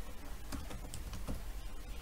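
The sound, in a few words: typing text on a computer keyboard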